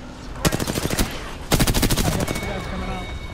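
Two loud, close bursts of rapid automatic gunfire rattle out in a combat video game, one burst after the other, and a short pause separates them.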